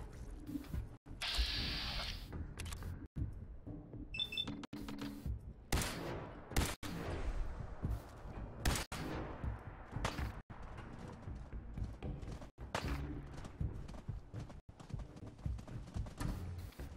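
Gunfire in the video game Fallout 4: repeated sharp shots at irregular intervals, fairly faint, mixed with clattering game effects and background ambience.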